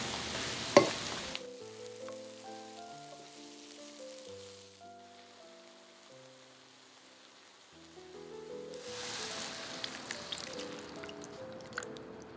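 Mushrooms frying in a pan make a soft, crackling sizzle at the start and again near the end; in between, gentle background music with stepped notes mostly takes over.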